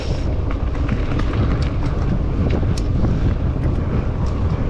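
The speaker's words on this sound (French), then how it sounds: "Assis sur les hauteurs, il y a quand même un peu plus de vent." Steady wind buffets the microphone on a hilltop during a solo mountain bike ride, a loud continuous low rumble filling the whole stretch with faint rustling above it.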